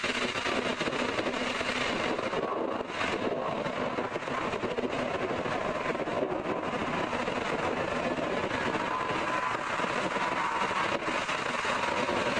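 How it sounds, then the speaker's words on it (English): Heavy jet airliner on approach and landing at runway 16 left at Seattle, a steady broad engine roar that holds at moderate loudness throughout, distant and continuous with no talk. "Transport 3563 Heavy, Seattle Tower, runway 16 left, clear to land."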